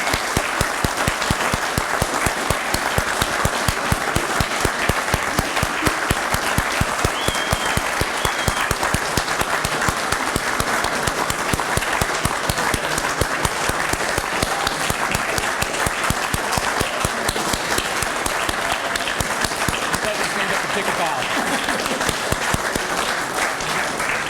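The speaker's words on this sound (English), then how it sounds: "Let's give them a round of applause," A crowd applauds at a firefighter reserve academy graduation ceremony: loud, continuous, dense clapping that stays constant in level throughout, with no talking over it.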